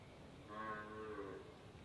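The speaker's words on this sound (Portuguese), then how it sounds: "É a vaca." A cow moos once in a drawn-out, mid-loud call that swells and fades, heard alone with no talk over it.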